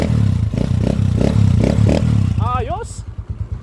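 A noisy vehicle engine runs with a rough, pulsing throb while a loose stainless part rattles and vibrates against it, and a brief chirping squeal rises near the end.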